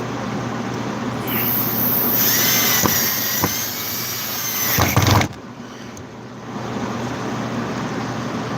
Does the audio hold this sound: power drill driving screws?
yes